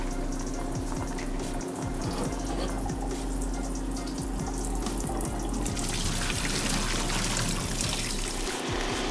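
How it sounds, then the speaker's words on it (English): Water pours and splashes steadily through a strainer into a sink while draining cooked udon, a continuous rushing stream heard up close. "put it in the strainer so we get rid of the water"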